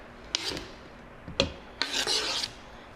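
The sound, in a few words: knife back scraping chopped onion across cutting board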